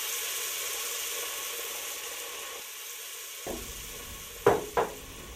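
Chicken broth is poured into a hot risotto pan, raising a soft continuous hiss that quiets, then two sharp bubbling spurts near the end; no voices.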